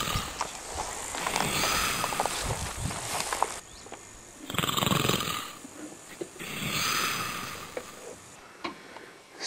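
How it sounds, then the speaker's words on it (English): A man snores in a sleeping camp in Mongolia, long rasping breaths repeating in slow cycles, fairly close, with faint crickets chirping in the background. "You can hear the man snoring."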